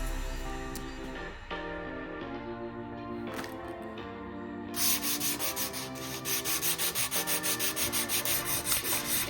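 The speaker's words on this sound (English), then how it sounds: "I'm going to start with the plain body first, using some 150 grit sandpaper and work my way all the way up to 300 grit sandpaper." A Stanley Bedrock 608 plane body being sanded by hand with 150-grit sandpaper, with close rhythmic scratchy strokes that are sparse at first, then a fast, even back-and-forth rasp of metal rubbing.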